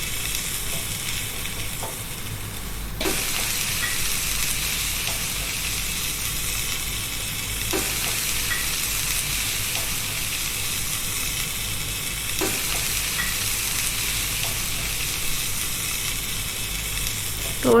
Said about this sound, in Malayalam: എന്നിട്ട് എണ്ണ നന്നായി ചൂടായി വരുമ്പോൾ നമുക്ക് റോൾസ് ഓരോന്നും ഇട്ട് കൊടുക്കാം.